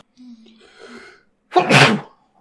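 A single loud, close sneeze, preceded by a brief faint breathy inhale.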